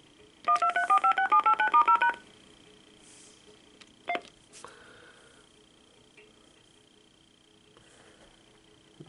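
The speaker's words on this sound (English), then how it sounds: "hit the redial." A 1990 AT&T 5500 cordless telephone redials, sending a rapid run of about a dozen clear DTMF tones, followed by a couple of faint clicks and a quiet steady line hum.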